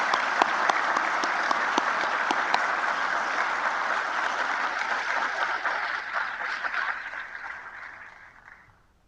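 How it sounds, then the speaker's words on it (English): A graduation ceremony audience gives sustained applause, a loud, dense wash of clapping with some individual sharp claps, fading out over the final seconds. "let's give him one more round of applause"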